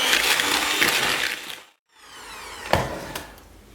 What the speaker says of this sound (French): on va crémer le tout pendant environ 1 minute